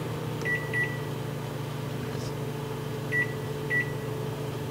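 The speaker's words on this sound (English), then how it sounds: "while we are waiting for the spaghetti to get out of the microwave" A microwave oven heating spaghetti hums steadily with a low electrical drone, while short high beeps sound in small clusters several times over it, with no talking.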